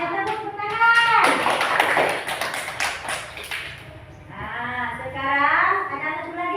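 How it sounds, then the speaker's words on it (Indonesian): Applause in a school classroom: a burst of many hands clapping, near and lively, mixed with children's voices that continue after the clapping fades. "Tepuk tangan."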